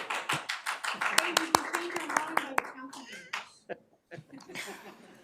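A few people clap briskly at a community committee meeting after a unanimous vote, sharp claps mixed with chuckles and laughter, then talk continues.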